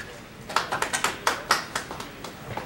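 A small audience at a Korean labor union press event protesting KTX outsourcing claps in a sparse, uneven patter of separate claps, fairly quiet and thin rather than a full ovation.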